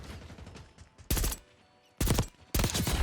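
Three loud, close bursts of gunfire from an AEK-973 burst rifle in Black Ops 6, each a sharp rapid cluster separated by quieter gaps.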